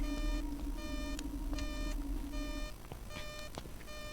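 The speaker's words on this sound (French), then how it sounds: "ça bip bip, ça bip bip. Oui, c'est mon EMF." An EMF reader in the Roblox horror game beeps repeatedly in rapid pulsed bursts, electronic and steady, over a low hum with a few soft knocks in the background.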